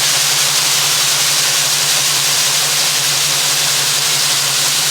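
A farm machine's engine runs at half throttle with its auger engaged, giving a loud, steady, close-up drone with a low hum that holds constant throughout, with no talking.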